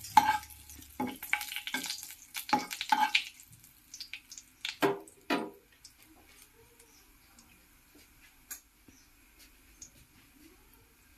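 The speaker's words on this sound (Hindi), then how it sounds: "और अब मैं इसमें तेज पत्ता डाल रही हूँ।" Bay leaf dropped into hot oil gives a few sharp crackles and stirring scrapes close by, then the sizzle fades to faint ticks and quiet pops.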